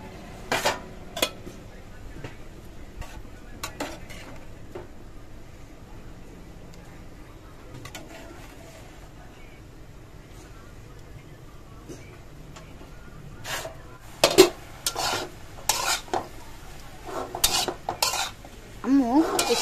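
Fish goes into a pan and gets stirred: sparse clinks at first, a quiet stretch, then loud repeated scraping and clattering of utensil against metal over a light sizzle, with brief talk.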